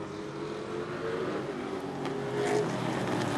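Super short track race cars roar around the oval, a steady engine drone that swells louder toward the end as the field passes, some way off.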